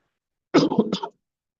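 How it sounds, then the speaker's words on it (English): A short burst of two or three dry coughs close to the microphone, followed by silence. "Sorry, I'm coughing a little bit today."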